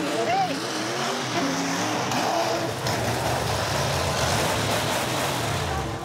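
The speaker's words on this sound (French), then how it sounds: "Le bruit des moteurs" Roaring monster truck engines at an outdoor monster truck show, a loud continuous rumble with dense broadband noise throughout, and voices talking over it at the start.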